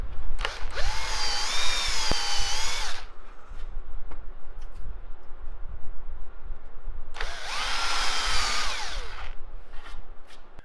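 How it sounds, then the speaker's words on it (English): A power drill whirs in two bursts of about three seconds each, pitch sagging as the bit bites into the teak wood of a boat swim platform, with a quiet pause between. "So let's go on, start drilling."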